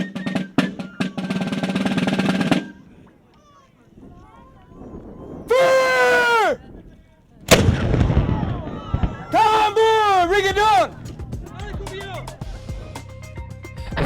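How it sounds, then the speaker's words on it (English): An 8-pounder cannon at the Fortress of Louisbourg goes off with a loud, sharp blast that rumbles briefly. Voices and crowd noise come before and after it. "Let's go through and fire this cannon, okay?"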